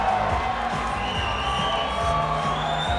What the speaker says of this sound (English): This crowd is going wild for him, as expected.